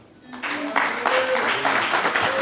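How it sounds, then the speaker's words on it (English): Audience applause for sponsors at a community foundation's founders day dinner, a crowd clapping steadily and fairly loudly throughout, with some voices mixed in. "Let's give all our sponsors a hand of applause."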